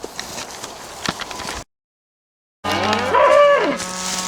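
Heifers low repeatedly from behind a hedge at a drought-hit farm, their calls loud and overlapping after a short silence, with rustling and clatter around them.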